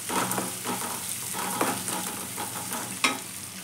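Ground homemade spice powder of fenugreek, cumin and mustard hitting a hot frying pan, with steady close sizzling and a few sharp scrapes and clinks of stirring, no voices.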